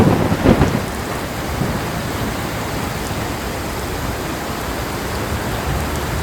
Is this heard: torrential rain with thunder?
yes